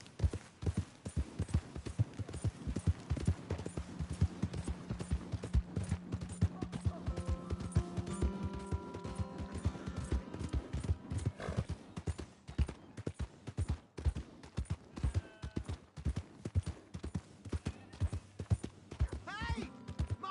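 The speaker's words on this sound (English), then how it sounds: "Hey! My horse!" In Red Dead Redemption 2, a horse gallops in a rapid, steady clip-clop of hooves, close and continuous, with a whinny and game music swelling partway through and a voice talking over it.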